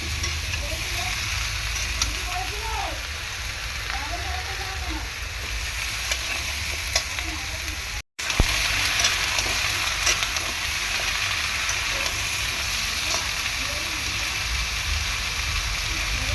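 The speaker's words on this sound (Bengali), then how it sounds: "কুমড়োটাকে ভালো করে এরকম তেলের মধ্যে নাড়াচাড়া করে নেব।" Young pumpkin pieces tossed in hot oil, a loud continuous frying hiss filling the whole stretch with scraping stir strokes underneath, close up and unbroken apart from one brief dropout midway.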